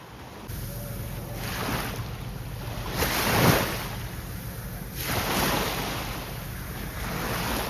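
Sea waves on a cloudy day in Kemer, Turkey, wash and break in steady surges under a constant rush of wind noise, with no voices.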